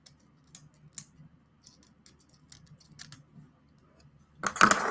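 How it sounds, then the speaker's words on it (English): Scissors snip through the braids of a braided wig with a few quiet, close clicks spaced irregularly, ending in a louder burst of rustling and handling noise. "All right, so we just got this one little piece left to cut off."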